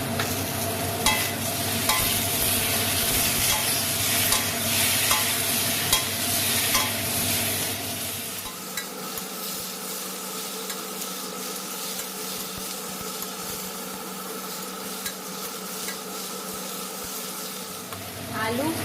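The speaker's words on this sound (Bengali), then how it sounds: "আলু পেঁয়াজ টমেটোটা ভালো করে কষানো হয়ে গেছে" Potatoes, onions and tomatoes sizzling in a pan while being stirred, with a bright, dense fry at first that settles into a quieter, steady crackle broken by repeated scraping taps of the spoon.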